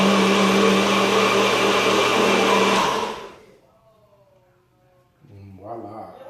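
A NutriBullet blender runs loud and steady with its lid on for about three seconds, then winds down to near silence before a brief motor restart.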